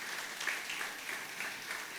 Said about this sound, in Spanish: por favor, apláudele fuerte